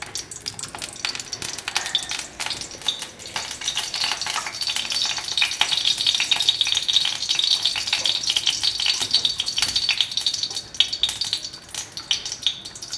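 Hilsa fish oil, rubbed with salt and turmeric, heats in a frying pan, giving a steady, close hiss with faint crackles and occasional stirring scrapes that swell slightly midway and continue throughout.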